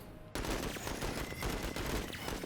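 An artillery salvo in the war game Menace, a continuous rumbling barrage of overlapping blasts that begins abruptly and stays loud throughout.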